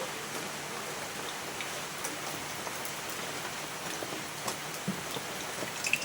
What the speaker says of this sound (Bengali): আমি শুকনো লঙ্কা তিনটে ভেজে তুলে রাখবো